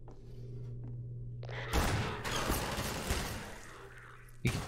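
Gunfire from enemies in the Half-Life 2 video game: a loud burst of shots and impacts breaks in after a humming lull, followed by scattered thuds and a final sharp crack.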